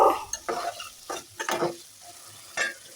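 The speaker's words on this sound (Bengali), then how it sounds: "এখন কেটে রাখা আলুগুলো আমি দিয়ে দিলাম এখন নেড়ে ছেড়ে সব মশলার সাথে মিশিয়ে নেবো" Chopped potatoes stirred into fried spice paste in a pan, several close scraping strokes of a spatula over a faint sizzle, in irregular bursts with no talking.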